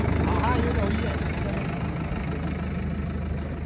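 A four-cylinder Sonalika DI 750 tractor engine running with the throttle open, a steady close, loud diesel chug and rumble that holds evenly, with a voice speaking over it.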